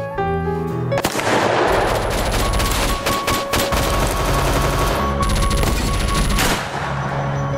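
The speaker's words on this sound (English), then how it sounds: "you start shooting from up here" Rapid bursts of gunfire ring out on stage during a high school theatre production of the musical Bonnie and Clyde, loud, dense volleys of overlapping shots sustained for several seconds with reverberant echoes.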